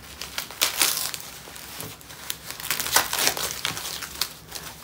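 Amazon parcel packaging being cut open by hand, giving a run of crisp crinkling and crunching bursts of plastic and cardboard at close range, irregular in rhythm with no voices.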